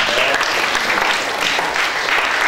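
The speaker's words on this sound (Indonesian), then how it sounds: "Tepuk tangan buat Tuhan." Loud, dense applause from a congregation during a church service, a continuous close-up wash of many hands clapping through the whole moment.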